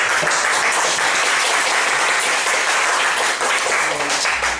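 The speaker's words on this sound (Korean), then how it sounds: "박수를 한번 크게 한번 주시죠." Professors at a university teaching lecture applaud loudly and evenly throughout, a dense wash of clapping with no break.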